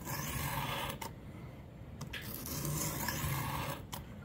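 A knife blade is stroked on a Xarilk portable clamp sharpener, making steady raspy grinding strokes close up, with brief breaks about every second between passes and no voices.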